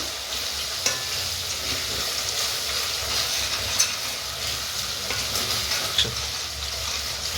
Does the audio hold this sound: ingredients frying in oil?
yes